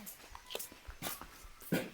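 A dog dressed in clothes lets out faint, broken whimpers and yips amid scattered close handling noises, quiet and uneven.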